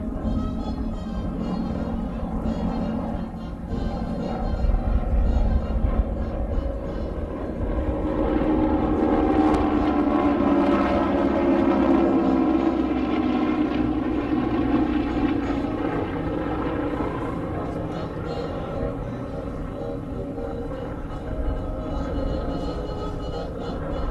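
Loud, continuous drone of a T-6 Texan and SNJ propeller aircraft formation passing overhead at an air show at Columbus Air Force Base, rising and swelling midway then slowly easing off, with faint voices underneath.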